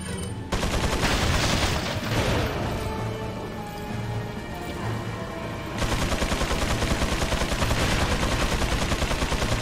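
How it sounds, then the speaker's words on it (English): Loud, dense shotgun blasts and heavy gunfire fill Resident Evil 4 gameplay, with rapid repeated booms that grow denser and more rhythmic in the second half, no talking over them. "Shotgun!"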